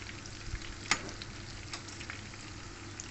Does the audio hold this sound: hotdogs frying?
yes